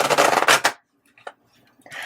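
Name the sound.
shuffling tarot cards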